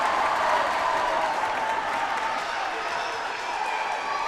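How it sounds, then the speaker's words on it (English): A high school varsity volleyball crowd in a gym, Blue Valley Southwest against St. James, keeps up dense sustained applause and cheering, a steady wash of clapping and shouting throughout with a commentator's voice faintly underneath. "Crowd's going crazy"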